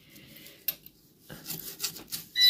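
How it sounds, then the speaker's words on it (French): A surface is scrubbed gently by hand at home, giving short rasping strokes in uneven bursts with a pause in the middle, close and fairly quiet. "Ça s'enlève direct. Yeah, très très bien. Hop, franchement, je frotte doucement."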